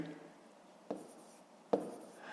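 Writing numbers for long division with a pen or pencil on paper, heard as faint scratching with two sharper taps of the tip, quiet and close, with no talk.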